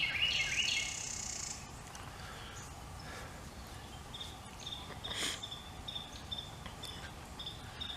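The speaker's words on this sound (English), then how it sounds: "listen to the birds." Faint, scattered bird chirps and tweets sound at a distance in a garden over a soft outdoor hiss, with a brief higher whistle near the beginning.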